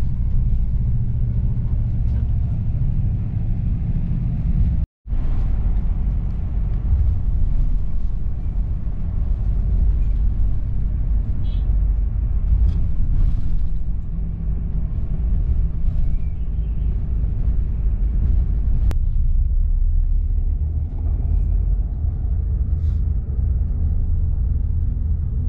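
A Sinar Jaya Suite Class bus cruising along a toll road, giving a steady low interior rumble of engine and road noise that holds throughout with one brief dropout.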